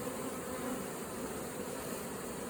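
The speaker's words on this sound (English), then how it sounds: "Hi, carpenter bee." A large carpenter bee buzzes near flowers in a garden, a faint, continuous drone with a quiet background and no talking.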